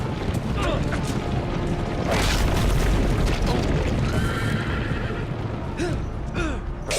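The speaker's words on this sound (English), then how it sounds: "Oh, horses are coming." Horses neigh and whinny repeatedly in a Game of Thrones video game, loud and close, with galloping hooves and booming combat noise underneath a dense, busy scene.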